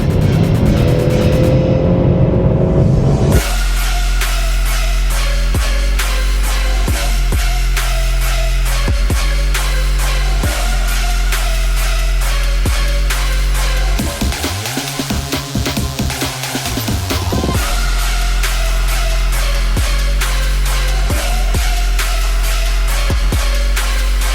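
A Ford Mustang's engine runs loud and close, holding a deep steady drone while it drives, then revs and shifts in pitch partway through before settling back into a strong, even roar.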